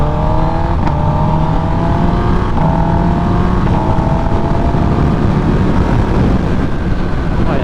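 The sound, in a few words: 2023 Kawasaki ZX-10R motorcycle accelerating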